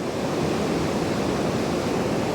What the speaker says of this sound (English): I've got this waterfall on the right and this waterfall on the left.